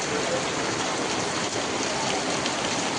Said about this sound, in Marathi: खूप पाऊस आहे आता माग जोरात जोरात पाऊस आहे